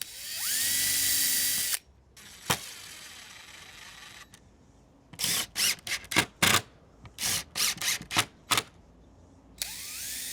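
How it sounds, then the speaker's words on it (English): A power drill whirs briefly while fitting a hinge on wooden trestle legs, followed by a series of short bursts of a driver running screws in, with quiet pauses between, then another drill spin. "drill and screw the other holes"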